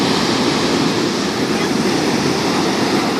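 Heavy ocean surf crashes onto a beach beside a tent campsite, a loud continuous roar of breaking waves with wind buffeting the microphone throughout.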